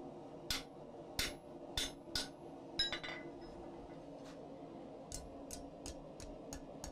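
A hammer strikes a hot cut chisel driven into steel at the top of a cleft on an anvil during blacksmith forging of a gate latch. Four or five sharp ringing blows land close together, then lighter taps follow against a steady background hum.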